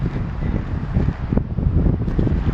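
Gusty wind buffets the microphone at a campsite beside Snowbank Lake, a loud, rumbling low roar with uneven surges throughout.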